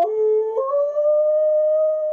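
A Husky and German Shepherd cross and a Rottweiler Shepherd mix howl together at their reunion, a loud, sustained, wavering tonal cry that rises slightly partway through and holds steady, close by with no talking.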